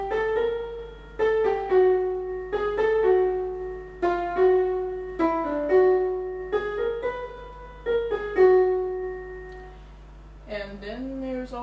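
A jazz melody is played straight as written, a clean synthesized tone stepping through short phrases with small pauses between them, ending on a held, bending note.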